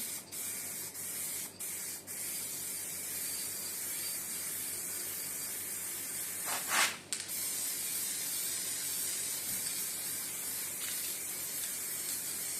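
Aerosol spray paint can spraying onto a masked surface, a steady close hiss running continuously with brief breaks and a louder burst near the middle.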